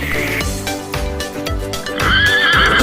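A horse neighs in a long, wavering whinny, close and loud, rising into a shriller, stronger call toward the end, with no talking.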